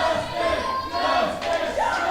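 A wrestling crowd cheers and chants for Justin Storm, a loud, sustained roar of many voices filling the arena without a break.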